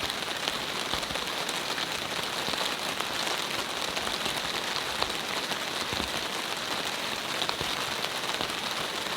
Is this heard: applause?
no